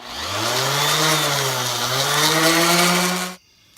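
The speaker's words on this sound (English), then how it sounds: "Orbital sanding, it doesn't cut it up near as bad as straight sanding" An orbital sander whirs steadily at close range on a boat bow panel, its pitch shifting slightly as it works the surface, then cuts off abruptly near the end.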